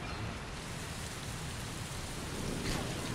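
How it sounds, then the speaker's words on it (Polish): Steady, dense rain hiss fills a multiplayer match of the video game Mass Effect 3, a constant wash of falling rain with no other distinct sounds and no clear talking. "Ja się chowam przed tym deszczem, nie lubię moknąć."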